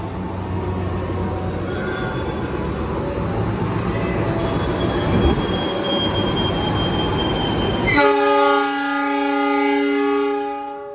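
The Ciremai train departs Semarang Tawang station in Indonesia, bound for Bandung, rumbling and squealing steadily along the rails, loud and close, then a sustained horn-like tone rings out near the end.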